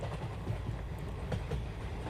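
Train moving along rails, a steady low rumble of carriage and wheel noise with faint rhythmic clatter, continuous and moderately loud with no voices.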